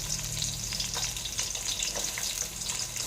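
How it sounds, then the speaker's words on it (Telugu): Onions frying in oil for an egg biryani make a steady, loud bubbling sizzle throughout, with faint stirring clicks over the continuous hiss. "ఇందులో ఉల్లిపాయలు వేసేద్దాం"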